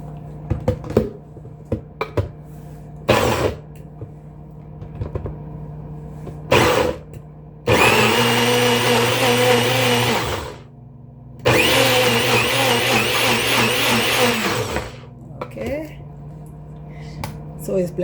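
Kitchen blender pureeing two medium yellow onions, running in two loud bursts of several seconds each, with short clatters and handling knocks between them.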